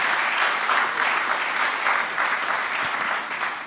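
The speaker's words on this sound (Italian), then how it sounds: "Un applauso anche per Alberto Dal Masso." A conference audience at a digital business summit applauds a start-up presenter with loud, sustained clapping from many hands that fades slightly toward the end.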